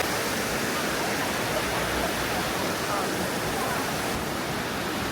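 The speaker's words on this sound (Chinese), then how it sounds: "看这个瀑布，它是很宽的，这一面都是" Pearl Shoal waterfall at Jiuzhaigou, a very wide cascade, gives a steady, loud, close rushing roar of falling water with no break.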